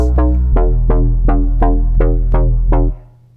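A loud, deep synthesized bass plays a steady rhythmic pattern of repeated punchy notes, about eight hits, ending abruptly.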